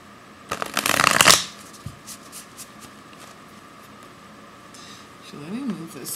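Tarot cards shuffled by hand in one brisk, crisp riffle near the microphone, followed by quieter handling rustles and a voice speaking softly.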